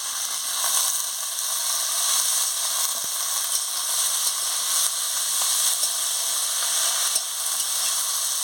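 Mixed vegetables sizzle and fry steadily in a pan after the onions have browned, a dense continuous hiss with faint clinks of stirring, close and without speech.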